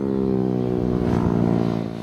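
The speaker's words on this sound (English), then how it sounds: "The FZ16's meaty power delivery is enhanced just a bit more thanks to the straight out exhaust. But the problem with it is that it is insanely loud." A Yamaha FZ16 motorcycle with a straight-out exhaust revs loud and close, a steady droning engine note with rich harmonics that swells slightly before easing off at the end.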